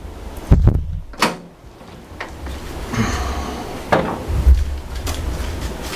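Secureit gun cabinet door with keypad entry being opened: a few sharp knocks and clunks, then softer rattles and a thud, close by and with no voices.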